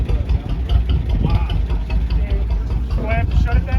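Antique tractor engine idling close by at a display in Baraboo, Wisconsin, a loud steady chugging rumble with people talking over it.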